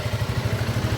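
A SYM VF3i 185 underbone motorcycle engine idles close by, a steady low throbbing pulse with a slight mechanical clatter throughout.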